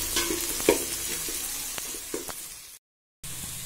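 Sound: onions sautéing until brown for biryani

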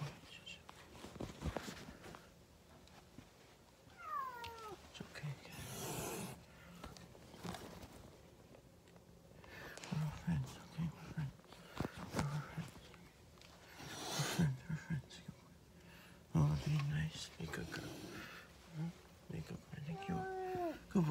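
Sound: cat meowing

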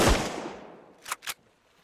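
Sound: gunfire from video game Sunkenland

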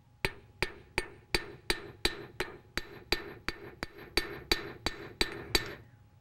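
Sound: metalsmith's hammer striking metal

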